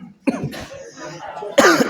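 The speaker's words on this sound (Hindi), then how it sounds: "खांसी होने लगा।" Two sharp, close coughs, the first a short burst and the second harsher and louder, separated by a brief pause.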